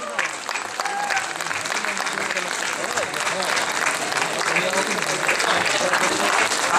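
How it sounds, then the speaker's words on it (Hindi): A crowd keeps clapping through an honours ceremony for participants and a singer on Savitribai Phule's birth anniversary, sustained, dense and fairly loud applause that stays even for several seconds. "तालियां बजती रहे"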